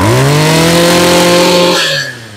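Echo 34cc brush cutter engine running loud and close, a steady high-revving two-stroke drone that holds for most of the time and then drops off as the throttle eases near the end.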